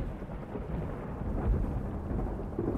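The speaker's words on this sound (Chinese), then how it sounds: "哦，打雷，吓死人了" A low, rumbling roll of thunder swells and fades, deep and muffled, with no voices over it.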